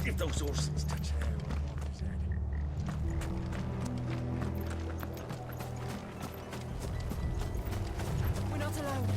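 In a video game, Final Fantasy 16, horse hooves clop steadily in a walking rhythm, with mechanical clanks and a voice talking over them.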